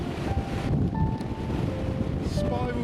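Strong wind on Yar Tor, high on Dartmoor, buffets the microphone in a steady broadband roar, with faint thin tones drifting through the gusts and no voices.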